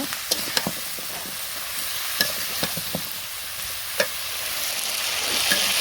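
Mixed vegetables sautéing in a village kitchen pan, a continuous sizzle broken by sharp clicks and scrapes of stirring, close and alone.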